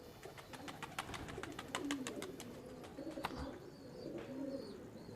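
A red-eyed pigeon coos softly in a few low, repeated phrases, with scattered chirps from other birds and faint background noise throughout.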